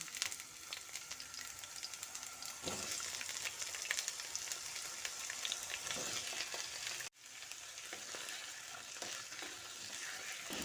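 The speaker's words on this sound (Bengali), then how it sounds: "তেলটা গরম হলে প্রথমে আলুগুলো ছেড়ে দিচ্ছি" Long-cut potatoes fry in hot mustard oil in a wok, giving a steady, close sizzle with occasional soft stirring scrapes and a brief dip in the middle.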